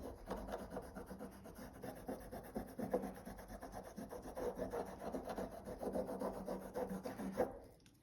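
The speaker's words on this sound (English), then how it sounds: "I just use a cheap rubbing compound here, and you just color it on like a crayon" A bar of cheap rubbing compound is rubbed back and forth on a leather knife strop like a crayon, making a close, steady scratchy rasping in quick repeated strokes that stop near the end.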